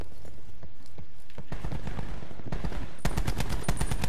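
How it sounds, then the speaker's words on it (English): Rapid gunfire from a Titan weapon in the Call of Duty video game crackles loudly, with shots speeding into a dense, steady volley in the second half. "I just destroyed a UAV with like 10 shots of a Titan"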